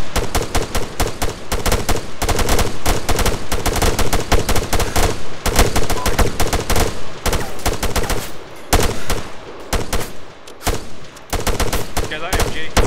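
Dense automatic and single-shot gunfire with machine-gun bursts fills a battle in the ArmA 3 military game, loud and nearly continuous, with brief lulls and faint voices underneath.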